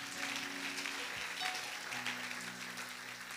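A congregation claps and acclaims during a church sermon, a dense, sustained wash of applause with a faint tonal hum underneath.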